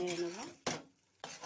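Mashed brinjal with egg is stirred in a pan with two quick, close scraping strokes of a spoon against the pan. They come after a short hum at the start, with a faint sizzle underneath.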